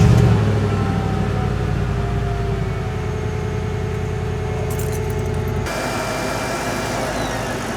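A Mercedes G500 W463 with the M113 engine fires up and settles into a steady idle after a tensioner, idler pulley and serpentine belt change, running close and continuous with a shift in tone near the end.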